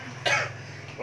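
A single short, harsh cough bursts out close by, followed by quiet breathing and a brief throaty sound at the end.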